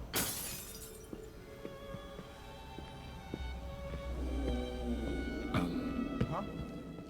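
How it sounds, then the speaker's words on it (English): A glass thrown onto the floor shatters in the video game Dishonored: Death of the Outsider, a sharp bright crash at the very start, then tonal in-game ambience with a few more sudden impacts later. "Would one of those guys hear us if we threw a glass on the floor?"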